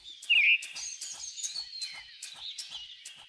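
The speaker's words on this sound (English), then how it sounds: "Ooh, we found a bird!" Cartoon chickadee chirping near a bird box, a bright repeated tweet with one louder call early on followed by steady rhythmic chirps, alone with no talk.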